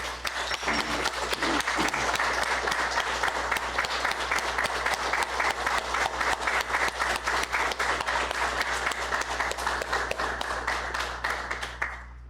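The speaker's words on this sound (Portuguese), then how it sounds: "Gostaria de mais uma salva de palmas para o Gonzales, porque ele merece muito." An audience at an ordinary city council session applauds in a sustained, even wash of clapping over a low background hum for about twelve seconds, fading out at the end.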